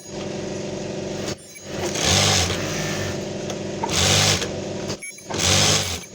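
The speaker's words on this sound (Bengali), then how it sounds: "আর একটা আমি সেলাই দিচ্ছি" A two-needle sewing machine in a non-woven bag factory stitches fabric in three loud bursts of rapid mechanical whirring, separated by short pauses and a few clicks, close to the machine.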